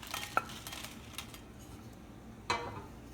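Roasted chutney ingredients are scraped and lifted from a metal pan, with a sharp clink near the start, another toward the end, and faint scraping between, close and fairly quiet.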